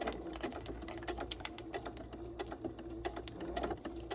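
A domestic sewing machine stitches grippy fabric at a slow, steady pace, a close rapid mechanical chatter of needle strokes with no talking.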